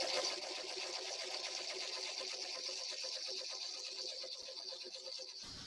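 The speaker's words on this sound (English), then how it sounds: "So I'm going to take a couple stitches and back tack." A sewing machine stitches a Lone Star quilt at a corner with a steady, rapid mechanical hum near the mic, then stops abruptly at the end.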